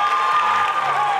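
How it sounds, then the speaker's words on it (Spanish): Brief burst of applause and cheering from an audience at a 2022 pageant electing festival queens and ladies of honour in Guardamar, loud and close, lasting only about a second. "¡Fuerte aplauso, por favor, para las reinas!"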